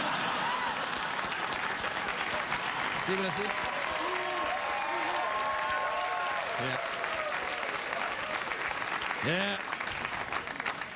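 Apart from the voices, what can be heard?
studio audience clapping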